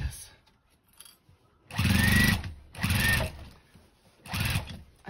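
A sewing machine stitching a denim quilt, running in three short bursts of rapid mechanical whirring separated by pauses, close and fairly loud.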